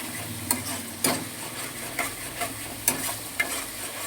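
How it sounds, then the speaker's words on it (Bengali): Garam masala spice mixture frying in oil while being stirred, a continuous close sizzle punctuated by sharp spoon-on-pan clinks every half second or so, no voices. "এবার ভালোভাবে মশলাটাকে কষিয়ে নিচ্ছি"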